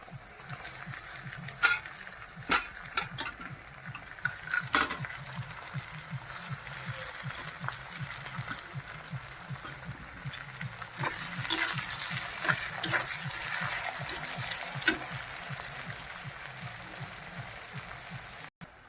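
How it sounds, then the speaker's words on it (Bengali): Onions fry in a pan as tomatoes are tipped in, giving a soft, steady crackle and sizzle with occasional stirring clatter and scrapes, fairly faint and close. "পেঁয়াজগুলো অনেকটাই ভাজা হয়ে গেছে তা এখন এই যে টমেটোগুলো দিয়ে দিচ্ছি"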